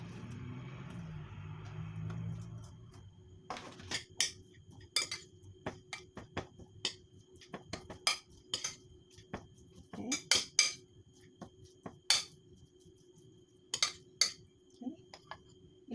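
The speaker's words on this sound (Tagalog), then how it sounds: "paghaluin na natin ang ating mga ingredients" Ingredients for lumpia Shanghai filling are being mixed in a bowl, with repeated clinks and scrapes of a utensil against the dish in irregular bursts, close by, after a brief low rumble at the start.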